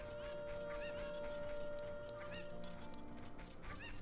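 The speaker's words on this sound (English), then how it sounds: "the chicken's probably in that crate, because that's what's making the noise." A chicken clucks in Zelda: Ocarina of Time on the N64, seemingly from inside a wooden crate, giving a string of faint, repeated clucks over quiet game background sound.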